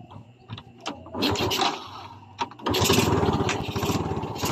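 A Yamaha Vega carburetor motorcycle engine sputters and cranks a few times, then catches and settles into a steady, close, rumbling idle.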